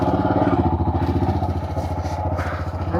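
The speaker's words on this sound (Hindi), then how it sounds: "ऐसी जगहों पर बाइक राइड बहुत सही लगती है यार," A motorcycle engine thrums with a steady, pulsing rhythm while riding a Himalayan mountain road toward Kalpa, loud and close with some wind rush.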